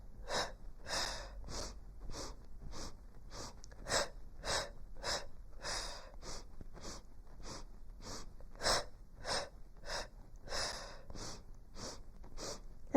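Sharp, forceful exhaled breaths during a Pilates hundreds exercise, close and rhythmic, repeating steadily about twice a second with no talking.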